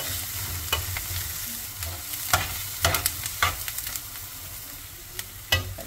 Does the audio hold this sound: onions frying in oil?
yes